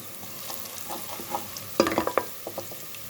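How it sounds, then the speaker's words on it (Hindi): Onions shallow frying in a pan with whole cumin seeds added: a quiet, steady sizzle with brief crackles and a few spoon stirs clattering close by, no talking. "हमारा प्याज हल्का हल्का शैलो फ्राई हो गया है"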